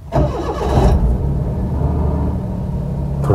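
A car engine cranks and catches, with a brief burst of starter and revving before settling into a steady low idle as it warms up, close and fairly loud.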